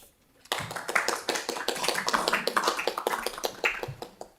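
Scattered clapping from a small group at a Christchurch City Council meeting on its draft annual plan, distinct sharp claps starting abruptly after a quiet moment and continuing unevenly at moderate volume nearby.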